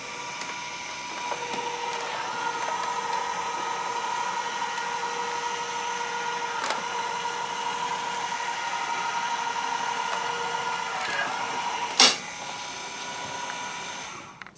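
An AccuQuilt fabric cutting machine feeds a die through, giving a steady mechanical hum with tonal motor whine that holds evenly throughout, broken by a few faint clicks and one sharp clack near the end.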